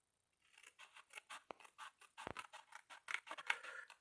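Quick, rapid snips of scissors cutting paper for a Santa's car advent calendar craft, a steady run of close, crisp cuts lasting a few seconds in a quiet room.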